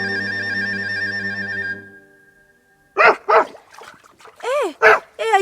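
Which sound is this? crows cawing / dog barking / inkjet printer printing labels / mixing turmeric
dog barking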